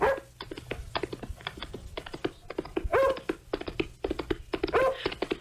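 Dog sound effect in a radio drama: a rapid, close run of short yaps and whimpering barks, repeated in quick bursts with no speech.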